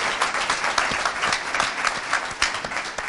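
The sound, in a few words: audience applause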